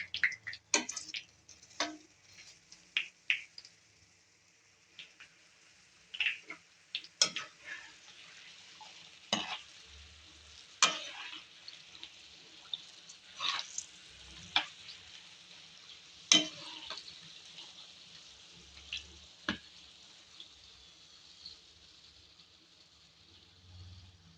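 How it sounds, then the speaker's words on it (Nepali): Green chillies frying in a pan over a low gas flame for gundruk pickle, a quiet steady sizzle broken by scattered sharp pops and crackles, close and faint. "यसरी हामीले खुर्सानीलाई सानो ग्यास गरेर 1 मिनेट जति फ्राई गर्नुपर्छ।"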